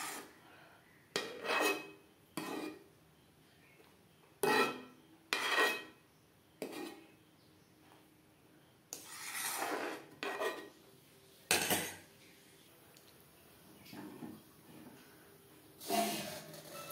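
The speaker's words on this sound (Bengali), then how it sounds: "ডালের ফেনা পরিষ্কার করে নেব।" A metal spoon scrapes and clinks against a pot while foam is skimmed from boiling moong dal, heard as a series of short, separate scraping strokes with brief quiet gaps, close and moderately loud.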